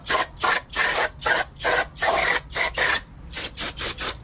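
A blue shop towel is rubbed across the edges of a Honda K24A2 cylinder head in quick, rhythmic strokes, about a dozen close, raspy wipes with short pauses between them, with no voices.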